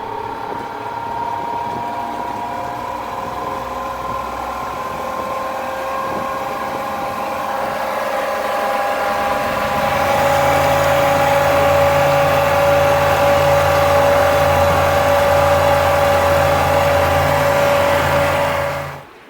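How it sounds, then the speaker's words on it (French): Engine of a homemade houseboat starting and running in forward gear, a steady droning hum with a rising tonal whine that grows louder and settles into a constant run, no talk. "Le moteur a commencé à fonctionner."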